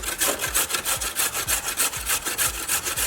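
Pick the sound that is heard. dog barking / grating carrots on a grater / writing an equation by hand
grating carrots on a grater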